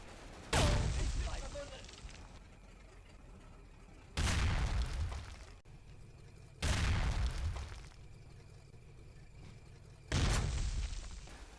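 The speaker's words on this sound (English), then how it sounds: "the rest of 4th Platoon I Company are brought up whilst the mortars go to work" Mortar rounds impact in the Combat Mission Fortress Italy war game, supporting 4th Platoon of I Company on high ground: four loud, booming blasts spaced a few seconds apart, each decaying into a rumbling tail over low background ambience.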